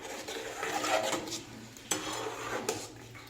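Besan batter is mixed in a bowl for kadhi pakora, soft wet swirling strokes with a few sharp clinks of the utensil against the bowl, close and fairly quiet, no speech.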